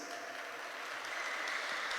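A church congregation applauding in praise of Christ Jesus during a sermon. The clapping is a soft, distant, even patter that stays at a constant level for two seconds.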